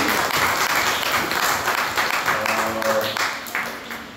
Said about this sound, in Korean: media team에도 박수 한번 주세요.